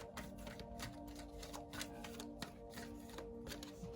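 Tarot cards are shuffled and drawn in quick, soft riffling clicks, a faint and steady rustle with no talk.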